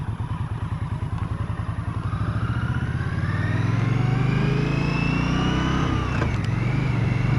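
A 2017 Victory Octane motorcycle is heard up close while riding, its engine pulsing rhythmically at first and then smoothing into a louder, sustained drone as it accelerates, with rising whine and wind noise.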